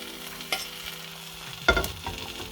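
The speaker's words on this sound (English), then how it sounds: "We toast it on this side as well." Bread toasting in a frying pan for a full breakfast, with a soft steady sizzle, a scrape near the start and a louder clatter of the bread being handled or turned partway through.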